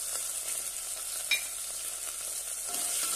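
Red chillies and curry leaves sauté in hot oil in a pan for rasam rice, a soft continuous sizzle with a brief sharper pop near the middle, quiet and without talk.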